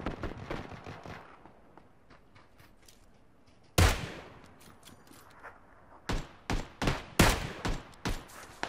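Sharp gunshots from PlayerUnknown's Battlegrounds game audio, a single loud blast followed by a rapid cluster of several shots, with faint background noise and no talking.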